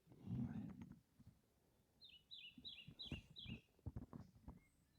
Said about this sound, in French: À cette heure-là, les oiseaux chantent.